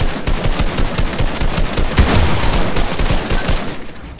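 Rapid machine-gun fire from the video game Fortnite rattles on for several seconds, a loud, dense burst of overlapping shots with no pauses and no voices.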